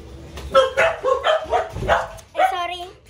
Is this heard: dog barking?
yes